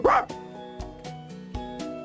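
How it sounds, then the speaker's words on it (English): A fluffy dog perched on a man's back lets out about three short, close barks with whimpering tones in between, while voices and laughter sound underneath. "Richard understands when he hears the bark"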